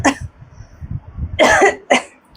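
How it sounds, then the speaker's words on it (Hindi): A woman gives a few harsh, close coughs in separate bursts, with quiet pauses between them. "खांसी रुक ही नहीं रही।"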